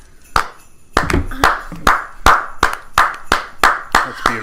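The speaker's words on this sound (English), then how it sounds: "I have always wanted someone to slow clap for me" A group slow golf-claps for a Pacific Partnership Member of the Year 2018 award, about nine sharp, evenly spaced claps building up close to the microphone, loud and dry with short gaps.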